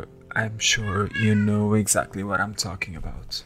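A pet cat meows several times in drawn-out, rising and falling calls close to the microphone, with a person speaking over part of it.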